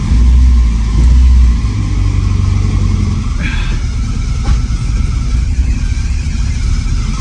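A 1977 BMW 320i engine runs loud and close on a short drive, with a deep throbbing revving early on, then a steady rough drone under the interior cabin noise.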